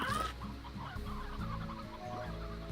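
Briar hens from the Slime Rancher video game cluck in a quick, steady run of squawks over a low, busy game ambience, moderately loud with no talk.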